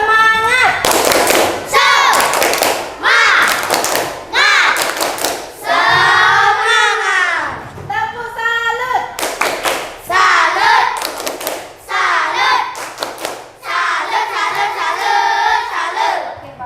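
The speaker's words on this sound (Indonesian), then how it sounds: "coba tepuk semangat" Schoolchildren in an Indonesian classroom perform a rhythmic spirit clap, bursts of loud group clapping in patterned beats mixed with children's chanting voices, close and lively.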